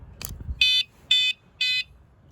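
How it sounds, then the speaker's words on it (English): A Wsdcam 113 dB wireless vibration bike alarm sounds its test tone when the battery tab is pulled: after a faint click, three loud, piercing electronic beeps come at an even pace, close up and with no voices. "A tester alarm will go off whenever you pull out the battery's tab."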